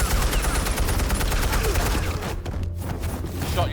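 Rapid bursts of automatic gunfire rattle in a tight, loud volley during a scene from the Batman Telltale Series video game, briefly easing before the shooting picks up again.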